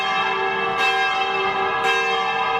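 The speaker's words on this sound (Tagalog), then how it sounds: "Isinagawa rin ang pagpapatunog ng kampana kada alas 7 ng gabi" A church bell rings steadily, its rich overtones sustained and resonant, with a couple of fresh strikes layered over the lingering hum.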